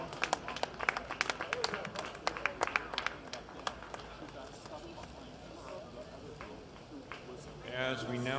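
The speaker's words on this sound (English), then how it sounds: "How about a big round of applause for all of our women 55 plus." Scattered clapping from a velodrome crowd after a women's 55-plus masters track cycling race at a world championships, sharp irregular claps in the first few seconds that thin out and fade, with room noise and voices behind.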